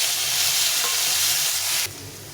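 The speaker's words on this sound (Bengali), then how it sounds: "আলুগুলো ভেজে নেব।" Potato pieces coated in salt and turmeric frying in hot oil, a loud, steady close-up sizzle that drops sharply in level near the end.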